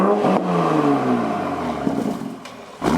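A Toyota Supra with an AWE exhaust revs up hard and then falls back, the pitch dropping steadily, and a second rev starts at the end; loud, close, and with no voices.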